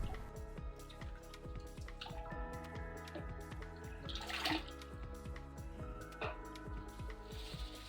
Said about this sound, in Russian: После очистки ободок унитаза внутри я всегда споласкиваю теплой водой из ковшика.